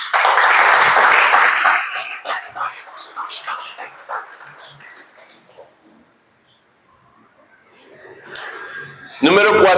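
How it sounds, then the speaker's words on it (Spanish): A church congregation applauds, loud dense clapping at the start that fades into scattered claps and a quiet stretch, with voices and a brief cheer coming back near the end. "Dar un aplauso a Dios."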